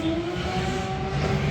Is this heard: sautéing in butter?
no